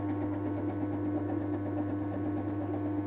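A permanent magnet motor running on 220-volt wall power through a capacitor bank, giving a steady, close mechanical hum with a constant low drone for a few seconds.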